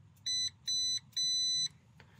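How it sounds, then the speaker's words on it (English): A multimeter set to continuity mode beeps as its probes close a connection on car wiring: three clear, high electronic tones, two short and one longer, close and loud, with a faint click at the end and no speech. "I have it set so it'll beep anytime the connection's closed."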